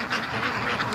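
Free-range ducks quack close by in a short, lively burst of several nasal calls, with no talking.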